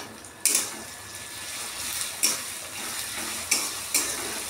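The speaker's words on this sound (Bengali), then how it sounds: "তো দিয়ে ভালো করে মশলাটা একটু কষিয়ে নেব।" Chilli and garlic masala paste fries with onions in a pan, a soft steady sizzle broken by a few sharp scraping stirs of a utensil, close and unaccompanied by speech.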